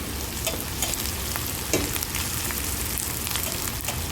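Chicken breast frying in a pan with oil, a steady close sizzle and crackle throughout with occasional stirring clicks, no talking.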